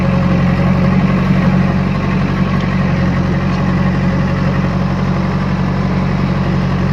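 A tractor's steady, low diesel engine idles nearby while its trolley is loaded with soil, a constant rumble and vibration, unchanging throughout and with no voices.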